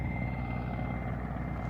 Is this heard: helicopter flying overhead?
yes